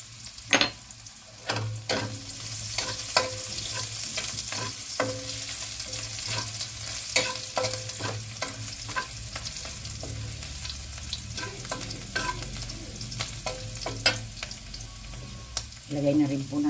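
Garlic and ginger sauté in a pan for a Filipino green papaya dish, making a constant frying sizzle with frequent sharp crackles and clinks of stirring, close up and without speech.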